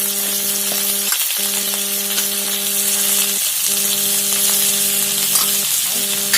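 Tomato with salt and turmeric fries in a pan while being stirred, giving a steady close sizzle with occasional scraping over a constant background hum.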